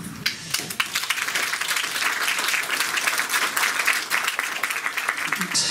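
Warm audience applause rolls through a room at a literary gathering, dense overlapping claps from a sizable crowd, loud and steady for several seconds with a brief fade at the end.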